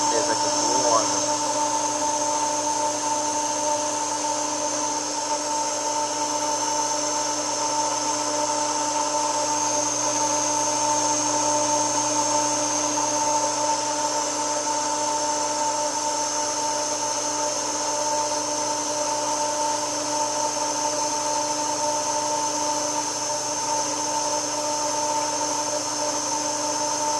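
A pool's incoming water plumbing pump runs while drawing in air, giving a loud, steady mechanical hum with sustained whining tones that stays constant from start to finish.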